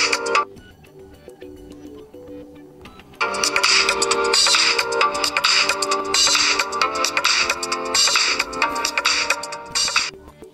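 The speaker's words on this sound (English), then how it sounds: "Now you've got your new phone ringtone." A custom ringtone plays from a Nokia G10 phone, a loud, bright melodic tune that starts softly and then swells into a full, busy pattern for several seconds before cutting off.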